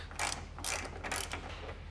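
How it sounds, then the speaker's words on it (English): A ratchet fitted with an extension and a T40 Torx bit loosening the D-ring tie-down bolts on a 2024 Toyota Tacoma, three quick bursts of close, crisp clicking. "we're going to take our ratchet, our extension, and our T40 Torx bit, and we're going to go ahead and loosen these up"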